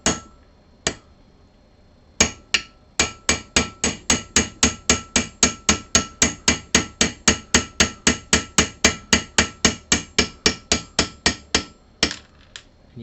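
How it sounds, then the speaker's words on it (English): Sharp metallic hammer strikes drive a roll pin out of an Atari arcade joystick shaft, a few scattered blows and then a long, steady run of about thirty evenly spaced taps, close and loud. "you just hammer that pin down into the shaft"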